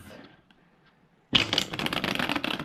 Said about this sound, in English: give the cards a shuffle as always